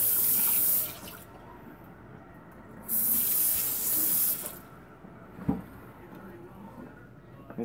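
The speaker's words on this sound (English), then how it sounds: "You take Nightrose and run it under some water." A Cardfight Vanguard trading card made of cardboard is held under a running kitchen tap, giving two loud bursts of rushing water separated by quieter dripping and handling, with a brief clatter near the end.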